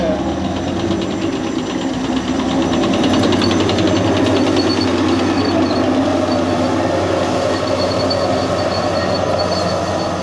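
A 56-tonne Leclerc battle tank rumbles steadily nearby, its loud engine roar mixed with clanking and rattling that holds constant throughout.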